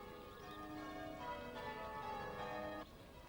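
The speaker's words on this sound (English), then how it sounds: "The bells of the Protestant cathedral can be heard faintly at the Catholic cathedral." Bells of the Protestant cathedral in Londonderry ring faintly in the distance, a sustained, overlapping tonal hum that carries steadily before dropping away near the end.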